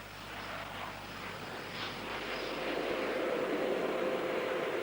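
A twin-engine jet with engines from Rolls-Royce, MTU and Fiat Aviazione flies at a 1980s UK airshow. Its steady, broad jet roar builds gradually and stays loud, with no talking.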